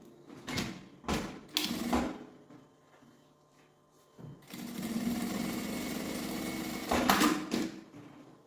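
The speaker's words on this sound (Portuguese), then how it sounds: "Aí agora eu vou passar uma costura de meio pé de máquina aqui." A sewing machine runs a seam on a fabric sling bag, starting with three short bursts of stitching, a pause, then a longer steady whirring run with a slight surge near the end, close and alone.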